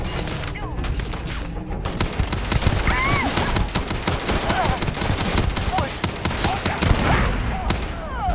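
Dense sci-fi firefight in Starfield, with rapid overlapping weapon bursts and booms crowding the whole stretch, loud and continuous, with voices breaking through the shooting.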